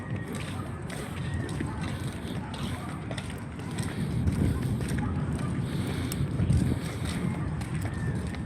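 A small boat on the sea near Limay approaches with a low, steady engine rumble that swells slightly, mixed with heavy wind buffeting and water noise, while people talk nearby.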